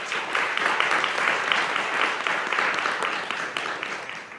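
An audience applauds panelists at the GDHF 2025 digital health forum: sustained, fairly close clapping from a full room, steady and even for several seconds.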